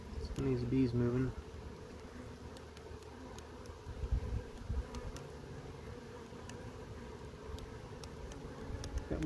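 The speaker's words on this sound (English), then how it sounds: "And these bees moving." Honeybees from a caught swarm crawling on the comb give a faint, steady low buzz close by, with brief handling noises and a short tonal hum early on.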